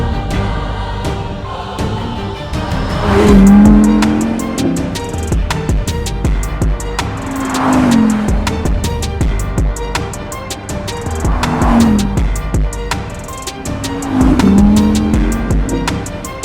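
A 2020 rear-wheel-drive Audi R8 accelerates hard through repeated gears, its engine rising in pitch with each pull before short drops at the shifts, loud and close throughout with no talking.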